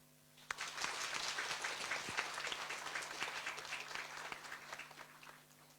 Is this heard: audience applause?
yes